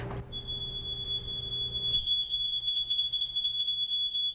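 A shrill, high-pitched alarm beeps continuously at close range, its piercing tone holding steady over a low background hum.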